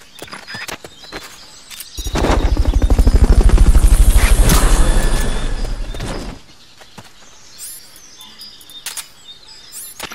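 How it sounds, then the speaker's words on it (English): A Fulton recovery helicopter in Metal Gear Solid Peace Walker sweeps through in a loud, rhythmic rotor burst lasting about four seconds, swelling and fading amid short game effects and chirps before and after. "Fulton recovery subject confirmed onboard helicopter."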